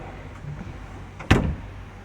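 A metal drawer on a furniture piece with shelves, in a furniture store, slides open with one brief, fairly loud scraping rush against quiet background hum.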